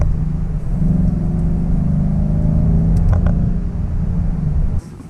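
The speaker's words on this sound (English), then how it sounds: "It's not a quiet exhaust system by any means." A 2015 Ford Mustang GT with a Ford Performance sport exhaust rumbles deep and throaty, loudly and steadily close by, swelling slightly as the engine revs, then dropping off abruptly near the end.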